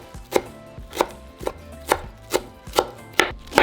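A knife chops fresh cilantro for shrimp ceviche on a cutting board, nine crisp, evenly paced thuds about every half second, close and clear with no talking.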